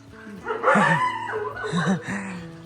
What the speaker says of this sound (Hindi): बाप रे भौंक रहा है इतना आवाज